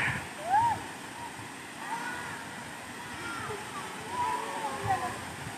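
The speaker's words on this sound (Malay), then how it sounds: "Air terjun Rerebe." Rerebe waterfall in Gayo Lues, Indonesia, keeps up a steady rushing, splashing roar throughout, moderately loud, while faint whistle-like tones rise above it now and then.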